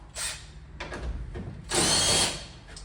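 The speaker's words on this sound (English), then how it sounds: "Just happen to have my power tool right on." A handheld power tool whirs in several short bursts while removing Torx fasteners from a Ram ProMaster van grille, the last burst longer and louder, with small clicks and handling noises between.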